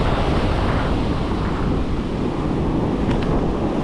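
Strong hurricane wind buffeting the microphone on the Stuart, Florida coast, a loud, unbroken roar that stays steady throughout with no talk.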